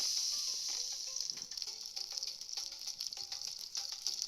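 Steady, close hissing and crackling of food frying in hot oil for döner, with occasional pops and clinks; no one speaks.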